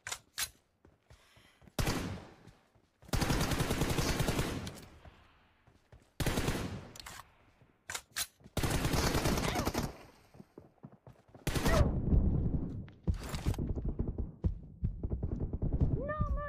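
Shotgun blasts fire in a mobile shooter game's team deathmatch, arriving as loud, repeated bursts separated by short quiet gaps, with a few isolated single shots between them.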